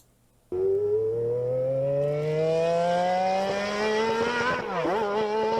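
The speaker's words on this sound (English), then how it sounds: "Now for a V12, this is the MP46." A McLaren MP4/6 V12 racing engine screams alone, its smooth high-pitched note climbing steadily as it accelerates, then briefly dipping and rising again near the end.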